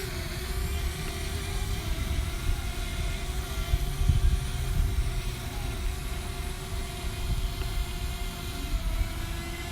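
A small Hubsan Mini SE drone hovers and descends toward a landing, a steady thin propeller whine over a low rumbling background, constant and fairly near with no talk.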